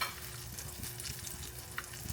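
Chicken frying in hot grease, a steady crackling sizzle with a few sharper pops, fairly quiet and continuous with no talking.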